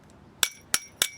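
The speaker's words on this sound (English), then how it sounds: "And a good hammer. Craftsman makes a really good hammer." A Craftsman hammer strikes a metal door knob three times in quick succession, each blow a sharp, bright metallic clink with a short ringing tail, close up and alone.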